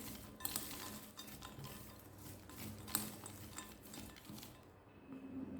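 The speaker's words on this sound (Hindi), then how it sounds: "और दोबारा से इन सभी को मिक्स कर लीजिए" A spoon stirs peanut masala chaat with roasted, cooled peanuts in a dish, giving repeated soft scraping and light clinks of cutlery against the bowl, close and fairly quiet, with no talking.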